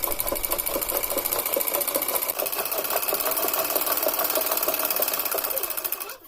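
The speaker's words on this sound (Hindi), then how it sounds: "अब हम इसके ऊपर स्टिचिंग करेंगे।" Domestic sewing machine stitching a folded, pressed half-inch hem on a kurti, running steadily with a fast, even mechanical chatter and rhythmic needle clicks throughout, close and loud, no talk.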